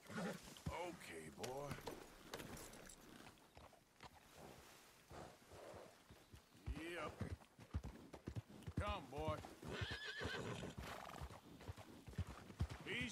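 Repeated horse whinnies and clip-clopping hooves from the video game Red Dead Redemption 2, close and lively, with someone talking throughout.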